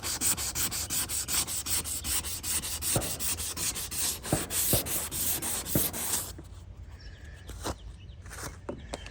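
Sandpaper rubs rapidly back and forth over a 1978 Corvette body panel in quick rhythmic strokes, close and fairly loud, then stops for a quieter stretch with a few scattered knocks and handling sounds.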